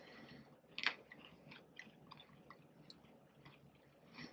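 Close, quiet chewing of a crispy Heath bar, English toffee covered in chocolate, with one sharp crunchy bite near the start followed by soft, irregular crackling and moist chews.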